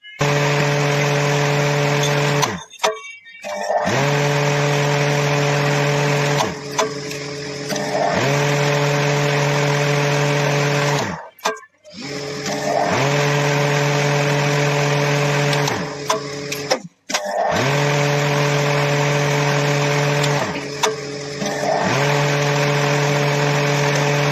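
A small electric cutting machine engraving three-line patterns on gold balls runs with a loud, steady motor whine, switching off and back on about four times in quick cycles.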